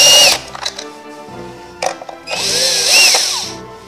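A powered wrench whirs loudly up close while removing the screws around a carburetor housing, with a short burst at the start, a brief spurt midway, then a longer rising whine toward the end.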